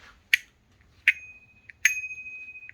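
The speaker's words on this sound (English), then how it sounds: "There was little bicycle bells on these things." Small bicycle bell mounted on a NIU KQi3 Pro electric scooter, struck three times at roughly even intervals, each a sharp ding with a ringing tail, the last one sustaining longest, heard close and alone.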